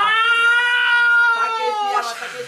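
A human voice imitates a cat in heat, giving a long, loud, wavering yowl, a drawn-out caterwaul close to the microphone that breaks into shorter cries and fades near the end.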